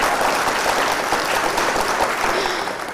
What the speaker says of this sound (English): Is somebody clapping for Auntie Paige?